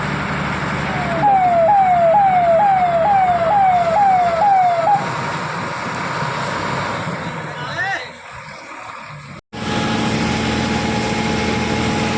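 A fire engine arrives at a canal-side fire near Mehas village by Nabha, its siren wailing in about six quick rising sweeps, loud and close, before cutting off amid voices and roadside noise.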